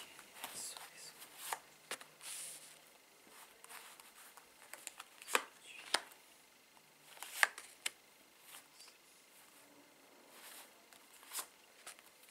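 Tarot cards handled, shuffled and laid out by hand, giving soft intermittent papery slaps and flicks with a few sharper snaps, close and quiet with no talking.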